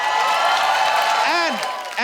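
A studio audience at a comedy talk show applauds and cheers to welcome arriving film star guests, a dense roar of clapping and crowd noise under a host's enthusiastic speaking voice.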